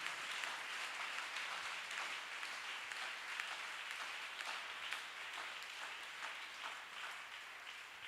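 A church congregation applauds in a dense, sustained wash of clapping that keeps an even level for several seconds and fills a large room, with no voices rising above it.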